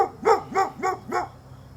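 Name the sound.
neighbor's dog barking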